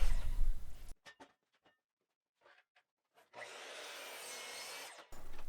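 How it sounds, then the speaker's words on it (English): A miter saw cuts through wooden boards for a custom coffee table, one long steady cut of about two seconds after a pause with faint clicks, bracketed by loud bursts of shop noise. "Now I'll start making all my cuts on the miter saw."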